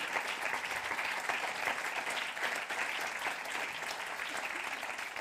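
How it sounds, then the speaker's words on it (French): Steady, even audience applause welcoming a team at the closing of a futures forum, a dense continuous patter heard from within the crowd. "je vous propose de les accueillir, de les applaudir chaleureusement"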